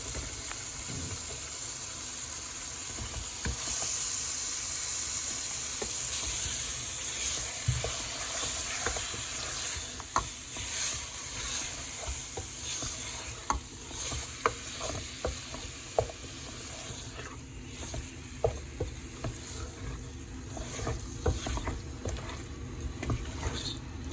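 Fish frying in a pan gives a loud, continuous hissing sizzle, with irregular scrapes and clinks as the pieces are moved about, heard up close without any talking.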